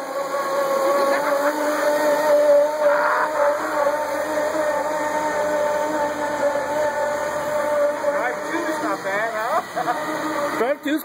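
A 1970s General Electric Electrak EM8 electric lawn mower drives along with a steady whining motor hum that holds for the whole stretch, and faint voices come through at times.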